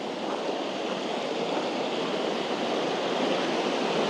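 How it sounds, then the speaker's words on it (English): A small mountain stream in the Swiss Alps runs beneath a wooden footbridge, giving a steady, close, unbroken rush of flowing water with no pauses and no voices. "What a beautiful little stream"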